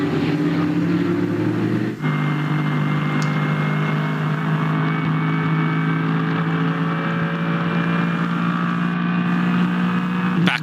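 GT3 race cars, including a Lamborghini, driving through the Schumacher S at the Nürburgring in an NLS race, a loud, sustained engine drone with steady tonal whine and a brief shift near the start, no talking.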